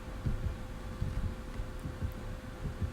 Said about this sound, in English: I have the heartbeat above me.